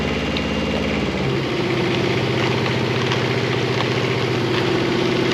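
Engine of a CTE Traccess 230 75 ft compact tracked spider lift running steadily while the boom raises, a loud, close, continuous mid-low hum with a slight pitch shift partway through.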